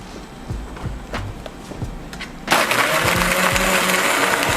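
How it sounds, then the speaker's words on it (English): A blender whirs through a frappuccino of espresso and syrup, coming in suddenly as a loud, steady, close roar after a few seconds of light clinks and taps. "And pop this into the blender."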